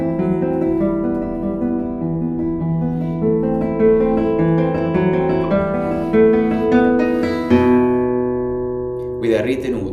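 A slow, expressive melodic phrase from bar 9 of Stachak's Kurpie Étude unfolds in sustained legato notes with a warm tone, close and moderately loud, and a short voice breaks in at the end.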